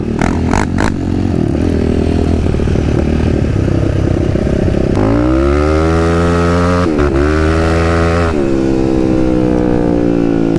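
A motocross dirt bike rides along trails with a loud, close engine that revs hard, its pitch rising and falling through repeated throttle bursts, with rattling and scraping underneath.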